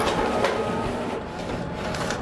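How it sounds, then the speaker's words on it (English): A printer feeding paper from its bypass tray for large-format printing, giving a steady, close mechanical whir and rattle that runs unbroken through the whole stretch. "Once that's loaded and it's all good to go, I'm gonna go ahead and hit print."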